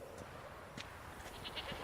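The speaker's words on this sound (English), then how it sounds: "There we have goats" Goats in The Witcher 3: Wild Hunt: faint, distant bleats, a few short calls over quiet ambient background.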